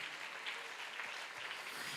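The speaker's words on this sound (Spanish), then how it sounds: "que le dé ese aplauso al Rey de Gloria" A church congregation claps during a Sunday closing service, a fairly faint, continuous patter of many hands that carries on without a break and with no voices over it.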